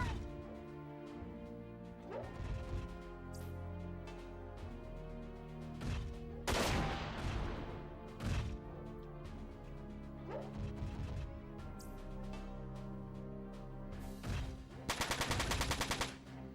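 Heavy machine gun fire in Front Mission 4 mech combat, bursts and impacts crackling over a droning music bed, ending in a fast rattling burst near the end.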